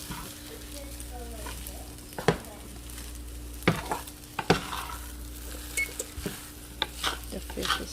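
Food stirred in a pan on the stove, a steady sizzle with intermittent sharp clinks and scrapes of a utensil against the pan, close by, with a few spoken words in between.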